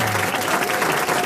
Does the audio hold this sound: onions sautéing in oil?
no